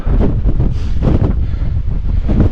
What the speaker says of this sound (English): I'm really hoping the wind dies down a bit, because I could do without that on here.